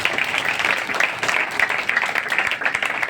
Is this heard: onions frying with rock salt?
no